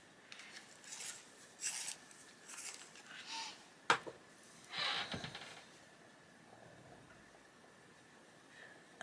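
A dark cadmium orange colored pencil is sharpened in short bursts of dry scraping and rasping, close and fairly quiet, with a sharp click partway through and quiet pauses between.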